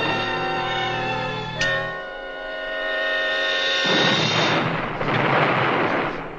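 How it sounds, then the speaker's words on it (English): Cannon fire from Spanish forts, a distant booming blast followed by a rushing, noisy rumble, coming in over a steady tonal hum. "That sounds like a cannon, sir."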